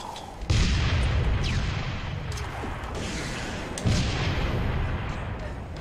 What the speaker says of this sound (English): Oh, is that a sniper?